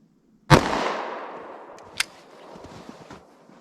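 A single sharp gunshot from a Gold Dot 9mm short-barrel pistol cracks loudly and then decays into a ringing outdoor echo, followed by a fainter second report and a few small clicks and rustles, with no talking.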